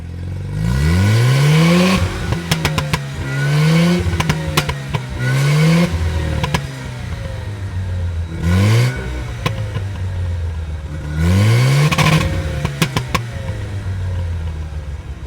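A 1985 Mazda RX-7 rotary engine revs up repeatedly, rising in pitch through each gear before dropping at the shift, with intermittent clicks and clatter inside the cabin.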